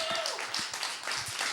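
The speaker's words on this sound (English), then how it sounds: "Let's give him a big round of applause for how amazing he is." Brief clapping from an audience at a spoken-word and music cafe show, a short patter of hands close by with a faint sustained tone underneath.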